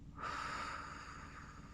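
A single quiet, deep breath drawn in through the nose during a relaxation breathing exercise, soft and close, lasting about a second and a half.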